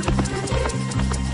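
Hooves clip-clop in quick, regular beats as a horse is ridden during a riding lesson, close and clear, with voices and a musical background blending underneath.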